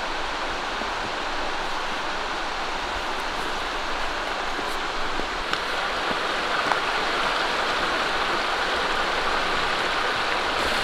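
A river rushing through a canyon in Albania near Permet, a steady, dense broadband roar of flowing water that stays loud and close for the whole stretch, with no voices.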